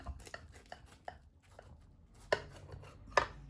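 A knife slices through golden baked soda börek, a run of soft crisp cuts at a steady pace followed by two louder, sharper taps against the pan, close and with no talking.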